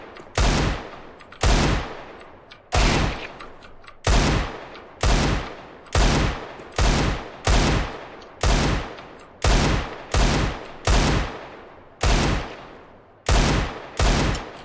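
Desert Eagle pistol fired in Counter-Strike: Global Offensive, about fifteen loud, sharp shots in an uneven rhythm, each a heavy crack with a short decaying tail and a few quick pairs near the end, no talking.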